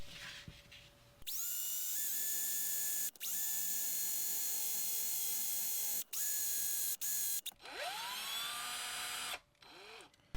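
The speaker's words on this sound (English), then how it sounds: "So I'm going to go ahead and drill out these holes." A power drill bores holes into a carved wooden mouse-shaped fishing lure, whining loudly in long bursts that start and stop, with spin-down pitch drops between runs and brief quiet gaps.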